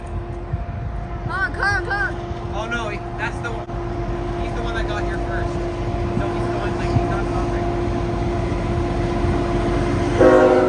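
A steady low rumble of a CN train rolls past in fog with a continuous drone and rattling, while voices talk excitedly over it.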